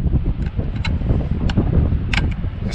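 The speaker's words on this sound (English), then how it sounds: "This side's a little windy, as you can probably tell." Gusty wind buffets an outdoor microphone beside an Argo 8x8 amphibious vehicle, a steady low rumble with occasional sharper bursts throughout.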